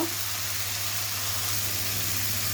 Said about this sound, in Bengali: এখন আমি সুন্দর করে মশলাটা কষিয়ে নিব।